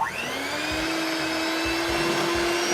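Electric hand mixer whirring steadily on low through pumpkin pie filling, a continuous motor whine that holds an even pitch for a few seconds with faint beater rattling in the bowl.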